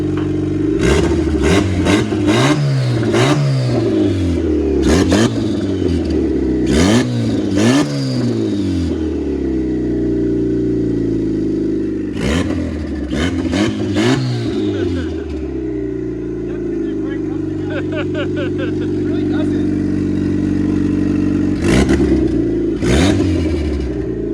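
A car engine in a garage revved repeatedly, close and loud, sharp rising and falling sweeps between stretches of steady idle, with voices talking now and then over the engine.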